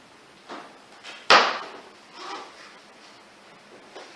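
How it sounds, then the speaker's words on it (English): A knife chops through a carrot on a cutting board, one sharp loud cut standing out among a few softer taps, with no talking. "Cut this carrot into half."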